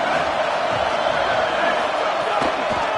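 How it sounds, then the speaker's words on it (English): Football stadium crowd at a Louisville versus Kentucky game, a dense, loud roar of cheering voices sustained throughout, with a few sharper bursts rising out of the wash of noise. "This crowd ready to make its presence known."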